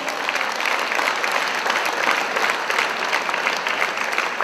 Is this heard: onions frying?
no